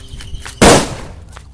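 A single sharp firecracker bomb bangs loud and close outdoors, a sudden burst that fades within a fraction of a second.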